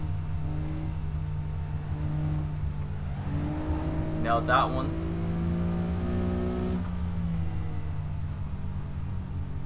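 A stock Honda NSX engine drones at Laguna Seca in Assetto Corsa, its pitch rising and falling through gear changes and revving up midway, with someone speaking briefly over it.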